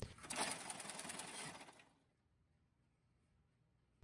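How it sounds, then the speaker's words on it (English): The cam-driven shuttle bar of a 5XB trouble recorder rattles back and forth in a rapid, fine mechanical chatter, fairly close, for under two seconds before cutting off to near silence. "This bar is driven back and forth very quickly by a cam inside the machine."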